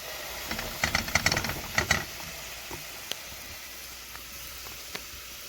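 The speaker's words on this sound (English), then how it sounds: "we've got the onion in with the sesame oil and the garlic and the meat. So you can see we're starting to brown it now" Onion, garlic and meat in sesame oil sizzle in a pan, with a burst of crackling and spoon scrapes early on, then a quieter steady hiss with a few isolated clicks.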